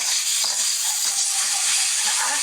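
Fried rice with burnt garlic being stirred in a pan, a bright continuous hiss of sizzling with a couple of soft scraping strokes, close and fairly loud, no talking.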